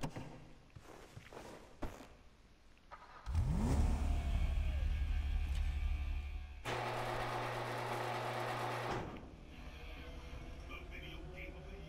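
The Coil Brawler off-road car in GTA 5 starts up with a rising whine and settles into a loud, steady engine drone. It then shifts to a higher revving pitch before dropping back to a quieter idle, with footsteps and thuds beforehand.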